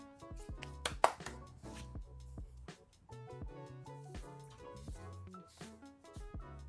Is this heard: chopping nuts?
yes